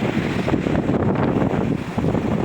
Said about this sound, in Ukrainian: задуває вітром і задуває піском